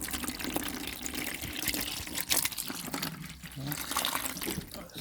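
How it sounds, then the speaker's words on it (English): Fluid running out of an opened reservoir tap, a faint splashing trickle that plays under a voice throughout. "when I open that tap, all of the liquid should come flooding out."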